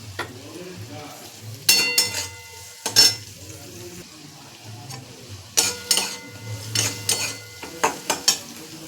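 Chopped onion with capsicum and green chilli sizzles in a pan for bread bhujia while a utensil scrapes and stirs in loud, irregular bursts over a steady frying hiss, close by.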